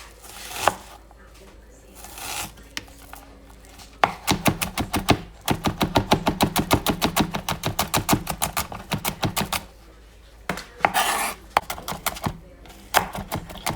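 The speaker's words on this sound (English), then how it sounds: "you want to cut them as finely as possible so they basically disappear while they're being cooked" A knife finely chops onion on a cutting board for a sauté, a fast run of loud, steady rapid taps after a few scattered cuts, with some talk in the kitchen at the start and end.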